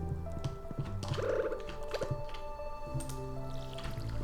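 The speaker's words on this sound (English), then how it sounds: "Water the cactus." Watering a cactus in Stardew Valley brings a short run of soft drips and squishy splashes, small liquid sounds landing in quick succession, quiet and without talk.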